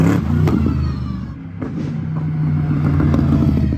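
Mercedes GT3 race cars pass at full speed through the Spa circuit, and their engines rise and fall in loud revving sweeps as several cars go by one after another.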